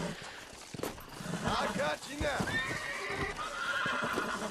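A horse in the Red Dead Redemption video game whinnies loudly and close, with hoofbeats clopping underneath and game sounds and voices layered throughout.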